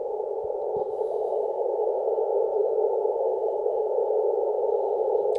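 Steady radio beacon tone from Australia received on the 20 meter band, a continuous buzzing carrier with faint noise around it, heard alone for several seconds.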